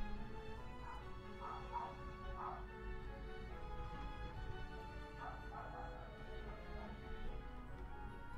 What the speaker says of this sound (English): Dogs are barking for something.